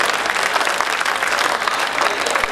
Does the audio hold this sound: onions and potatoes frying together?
no